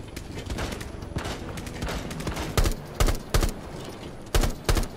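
Gunfire crackles in the video game Rainbow Six Siege: scattered sharp shots over a busy background, with a few louder, closer bursts near the end.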